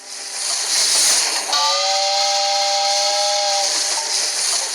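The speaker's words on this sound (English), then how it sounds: "The train slowly chugs down the mountain." A steam train coming down a mountain gives a loud, sustained whistle over a constant hiss of steam, with the whistle starting partway through and holding steady for a few seconds.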